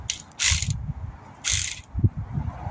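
Socket wrench ratcheting on a 2002 Acura MDX during repair work, heard as two short bursts of rapid metallic clicking with low workshop rumble and handling noises between them, close and clear.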